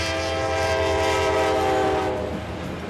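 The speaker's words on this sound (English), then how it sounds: "I'm on a train at last." An Alaska Railroad train rolls along in winter snow country, a steady loud rumble of wagons with a sustained horn-like tone layered over it, fading slightly near the end.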